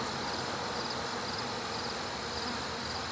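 Honeybees at a calm beehive in late summer, a dense continuous buzzing hum of many insects close by, steady throughout with no voices.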